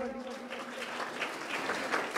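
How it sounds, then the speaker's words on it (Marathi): Audience clapping for Tanaji Malusare during a Shiv Jayanti lecture hall gathering, a steady patter of many hands sustained through the whole moment, moderately quiet and somewhat distant. "तानाजी मालुसरे, टाळ्या वाजवा त्याच्यासाठी"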